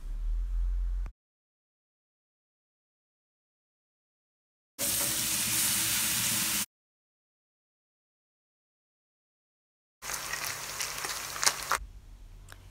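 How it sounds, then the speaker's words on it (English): Diced bacon sizzling and crackling in its own fat in a hot pan, heard in a few separate bursts with silence between them. "frying diced bacon in its own fat"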